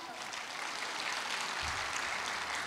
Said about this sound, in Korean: 우리 모두 큰 박수